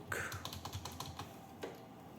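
A phone number being keyed in on a computer keyboard, a quick steady run of close clicky keystrokes over a constant background hum, with no voices.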